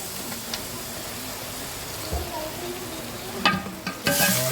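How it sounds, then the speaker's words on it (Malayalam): Vinegar and masala bubble and sizzle softly at a low simmer in a pan while making fish pickle, with a few clinks and scrapes of utensils growing louder toward the end. "വിനാഗിരി എടുത്ത് ഒന്ന് തിളച്ചോട്ടെ."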